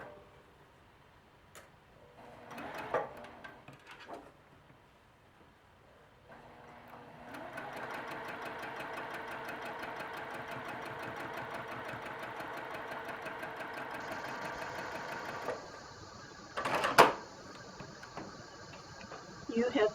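A sewing machine stitching 1/8 inch around a 5-inch quilt block square, a quiet steady mechanical whir lasting several seconds, preceded by faint handling sounds and ending with a few louder clicks and bumps.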